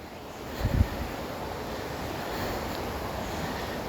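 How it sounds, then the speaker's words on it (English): A huge roaring river running right beside a house, heard as a steady broadband rush that fills the whole clip, with a brief low thump near the start and no voices. "Do you guys hear the roaring river in the background?"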